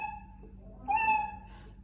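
A synthesized cat meow played as a sound effect on a Yamaha keyboard, a single short tonal mew that rises briefly in the middle over a faint steady background hum.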